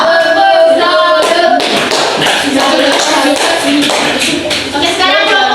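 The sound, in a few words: class clapping for group 2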